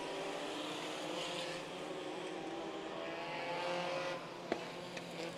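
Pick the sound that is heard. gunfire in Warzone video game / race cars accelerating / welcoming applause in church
race cars accelerating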